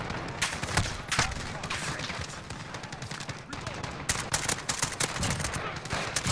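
Rapid gunfire from Call of Duty Spec Ops crackles in dense bursts throughout, mixed with players talking excitedly over it.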